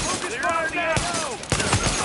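Gunfire bursts in Tom Clancy's The Division, rapid overlapping shots with sharp cracks, loud and close, with voices mixed in around them.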